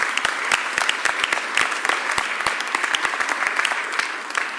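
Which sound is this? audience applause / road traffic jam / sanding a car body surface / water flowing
audience applause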